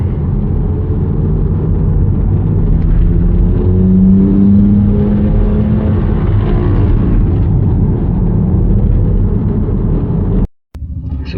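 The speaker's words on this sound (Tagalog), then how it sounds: "Driving with Mini Cooper." A Mini Cooper drives through heavy city traffic on a flyover in Makati, giving a loud, continuous engine and road rumble that swells gently before a brief cutout near the end.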